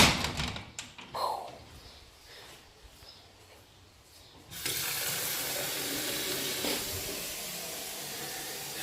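Water gushes from a tap into a home-brewing pot, a steady loud rush after a few knocks and clatters at the start.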